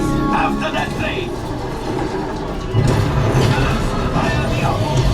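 A rumbling, rattling train sound effect plays inside the Millennium Falcon: Smugglers Run ride at Disneyland, a loud, continuous roar that swells louder partway through, with voices mixed underneath.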